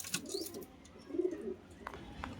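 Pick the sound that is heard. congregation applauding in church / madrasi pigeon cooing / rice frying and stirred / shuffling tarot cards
madrasi pigeon cooing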